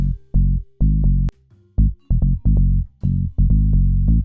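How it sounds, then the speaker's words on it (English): A chopped synth bass line for a house track plays short, punchy low notes in a syncopated pattern with brief gaps between them, loud and dry and heard alone. "The best way to create a bass line is by experimenting with different notes."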